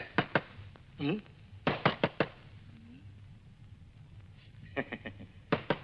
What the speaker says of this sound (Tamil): கதவு தட்டுற சத்தம் கேட்டுக்கிட்டே இருக்குது